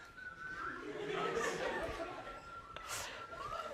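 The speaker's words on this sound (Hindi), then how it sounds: "बस हो गया अभी सीटी।" Thin, wavering whistles from people in a classroom rise over a busy background of chatter and a little laughter. The whistling comes in a few drawn-out tones at moderate loudness.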